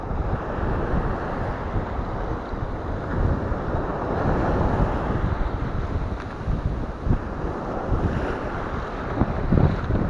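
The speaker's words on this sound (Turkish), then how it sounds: "rüzgar ve dalga bayağı bir çıktı" Steady wind roars across the microphone over the wash of waves while fishing at sea off Mersin, Turkey, a constant rushing noise out on open water with no voices.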